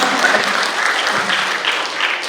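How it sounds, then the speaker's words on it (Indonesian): A live audience applauds steadily for a couple of seconds, a dense, even wash of many hands clapping at once without a break. "Tepuk tangan dulu dong buat David tuh."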